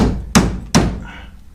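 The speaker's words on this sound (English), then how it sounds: "So you get a wee hammer here and chap her on." A small hammer tapping a front suspension arm onto a scooter, two sharp metallic knocks close together, loud and close, with a short ringing decay after each.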